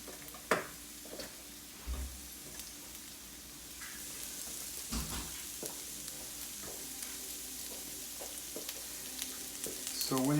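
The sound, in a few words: onions frying in olive oil in a hot pan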